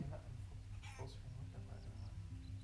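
Cartoonish chicken clucks from a golf video game, a few short squawks over a steady low hum of game background sound.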